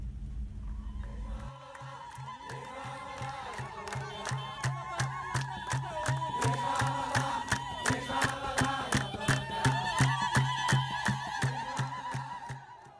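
Villagers in Ethiopia sing songs of prayer together, voices rising and falling over steady rhythmic beats of drum or claps that grow fuller and louder as the group goes on.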